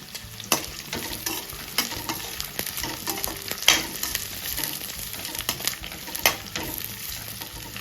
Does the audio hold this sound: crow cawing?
no